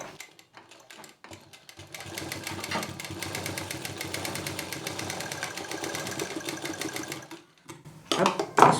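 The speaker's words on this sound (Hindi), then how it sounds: "तो इसको भी यहाँ सिंगल सिल देंगे।" Sewing machine stitching fabric for a mini potli pouch, a few hesitant starts then a fast steady run of rapid needle clatter for about five seconds, stopping before louder handling noises near the end.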